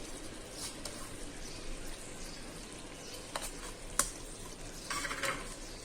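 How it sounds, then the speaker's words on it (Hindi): Aloo baingan sabzi of potato and eggplant with coriander stirred and fried in a pan, a soft continuous sizzle with occasional utensil scrapes and a sharp clink near the end, close but fairly quiet. "अब हम धनिया डाल देंगे और भून लेंगे।"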